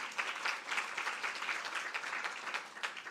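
Audience at an International Women's Day round table claps together in steady, moderately faint applause that continues evenly, with no talk over it.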